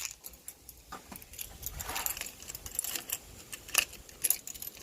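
Motorcycle keys jingle and clink in bursts close by as they are fumbled into the ignition of a ZX10R, with scattered sharp metallic taps.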